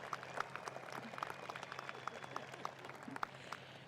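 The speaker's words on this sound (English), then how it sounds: "Please join me in a round of applause" Faint, steady applause from a crowd at a 2024 high school graduation ceremony honoring retiring teachers, heard as scattered soft claps from a distance.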